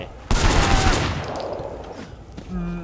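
Gunfire in the action game Sleeping Dogs starts with a sudden sharp burst, then a rapid rattle of shots fades into a lingering tail, with a faint voice near the end.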